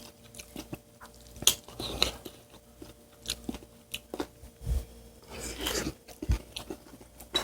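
Close-up chewing of bibimbap mixed with canned tuna, garlic chives, garlic and kimchi, with repeated soft crunches and wet bites in an irregular rhythm, quiet and intimate, with no talking.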